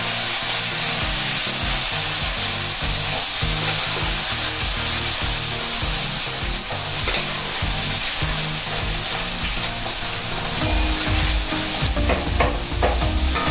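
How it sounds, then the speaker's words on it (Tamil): Chickpeas frying in a tempering pan with mustard seeds and curry leaves give a loud, continuous close-up sizzle, with scattered stirring clatter running through it and no voice. "கொண்டக்கடலையை இந்த தாளிச்ச சட்டியில் போட்டுடணும்."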